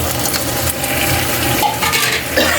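Steady loud sizzling and frying as chicken goes into a hot pan for butter chicken, with faint stirring scrapes and utensil clinks throughout.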